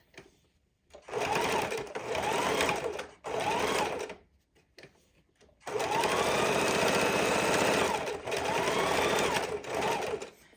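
A sewing machine stitches a fidget quilt in several bursts, each a few seconds of rapid, buzzing whir, separated by short pauses, with a longer run of stitching near the end.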